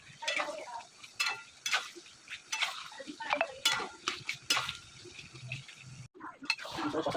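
Masala with ginger and garlic being fried and stirred in a pan for chicken biryani, with irregular scraping and clinking strokes of a spoon against metal over a soft sizzle, close and fairly quiet.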